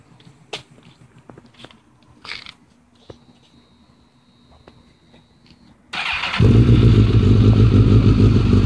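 A custom 2006 Suzuki GSX-R1000 sits quietly with a few light clicks and clatters, then its engine fires up and settles into a loud, steady, close idle for the last few seconds.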